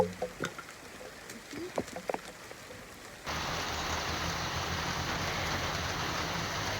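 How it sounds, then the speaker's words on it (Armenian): Heavy rain begins abruptly partway through, turning scattered drips and faint outdoor noises into a dense, steady hiss of downpour that carries on loudly to the end. "Մի անգամից վարար անձրևը սկսվեց"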